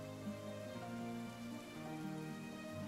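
Steady rain falls outside, a continuous even patter on surfaces that holds at a moderate level throughout with no voices over it.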